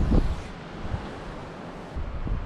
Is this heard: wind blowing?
yes